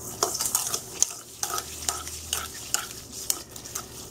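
A spoon stirs jerk chicken marinade with orange juice in a pan, making repeated clinks and scrapes against the metal over a light sizzle, close and rhythmic, with faint whispery sounds in the background.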